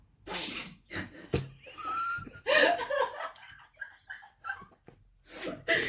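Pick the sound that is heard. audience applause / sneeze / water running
sneeze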